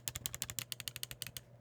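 Micro switch bumper buttons on an AYN Thor dual-screen handheld clicking in a quick, steady run of about twenty crisp, sharp clicks, close and fairly quiet, with no talk.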